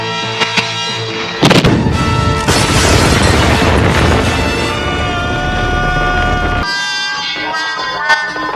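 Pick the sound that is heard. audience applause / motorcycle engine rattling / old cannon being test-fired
old cannon being test-fired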